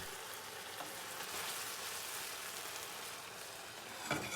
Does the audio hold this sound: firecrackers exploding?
no